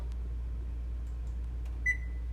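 A new stove's oven control gives a single short electronic beep near the end, faint and clear over a low steady hum in an otherwise quiet kitchen.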